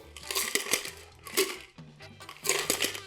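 A cocktail is strained over ice into a glass, with crackling ice and liquid pouring in three short, close bursts separated by brief pauses.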